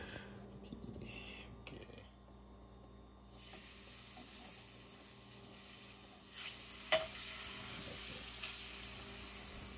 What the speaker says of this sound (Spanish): Colocar la sección de plátano en aceite caliente.